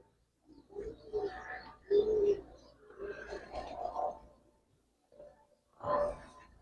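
Young Giribaz silver pigeons, chicks of a Palla-line flock, coo close by in several soft, throaty bursts separated by short pauses, with a louder coo near the end.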